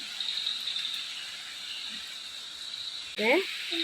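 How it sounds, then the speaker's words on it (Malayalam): A steady, high-pitched insect drone fills the air, the continuous buzzing of cicadas at night, with a brief voice-like sound near the end. "ഈ ചീവീടിനെ ഇവിടെ അന്തിഗിരി എന്നും പറയും കേട്ടോ"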